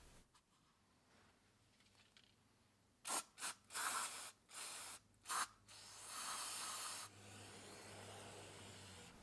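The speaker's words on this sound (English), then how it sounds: "spray it down with some brake clean." Several short, sharp hisses of aerosol brake cleaner sprayed on Toyota Sienna front brakes, followed by one longer continuous spray, close up with no talking.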